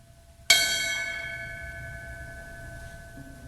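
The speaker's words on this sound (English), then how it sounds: "the ringing of the ceremonial bell to honor the lives lost" A single bright ceremonial bell strike at a 9/11 memorial ceremony rings out clearly, then its metallic tone slowly decays and lingers over a quiet background.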